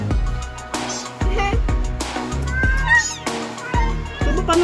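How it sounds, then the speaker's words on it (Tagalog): A pet cat meows repeatedly in a home, short bright cries in an uneven rhythm, close and fairly loud, mixed with people talking nearby. "Kulit ng pusa ko."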